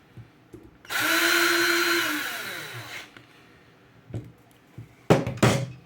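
An airsoft rifle gearbox being converted into a DMR runs for about two seconds with a high mechanical whirr that winds down. Clicks and short bursts of handling follow.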